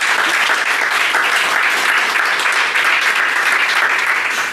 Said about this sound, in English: Let's give Nolo a round of applause.